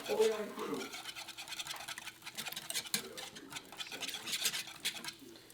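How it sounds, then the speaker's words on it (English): A light, fluffy sauce is stirred in a pan, giving a fast, continuous close scraping and swishing with a brief low hum at the start. "Now you just keep stirring it and stirring it and stirring it"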